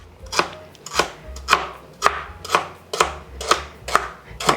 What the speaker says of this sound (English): So just a lot of chopping to start with.